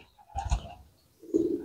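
Pigeons kept in a loft coo softly at a moderate distance, with a faint rustle beforehand and a short, louder throaty coo at the end.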